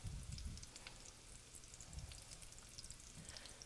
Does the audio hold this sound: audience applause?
no